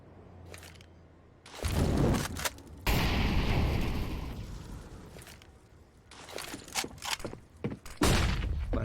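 Counter-Strike: Global Offensive rifle spray during a competitive esports match round: dense, loud bursts of gunfire sweep in, pause, then return as scattered sharp shots and a heavy final volley, no talk over them.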